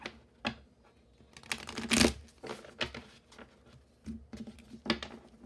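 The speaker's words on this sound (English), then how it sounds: "So I'll go ahead and shuffle this, and then we'll see what you got going on here in the cards" A deck of tarot cards is shuffled close up in several soft, quick riffles and taps with quiet pauses between them.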